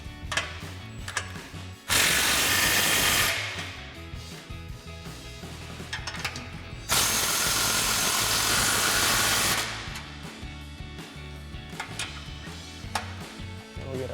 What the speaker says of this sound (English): we'll go ahead and fully tighten down all of our clamps. So we've got our 15mm socket.